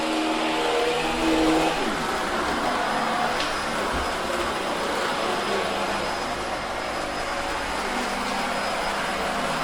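A Hoover H Upright 500 Sensor Plus vacuum cleaner runs steadily for about ten seconds in a dark room, giving a continuous broad motor roar with a shift in tone early on.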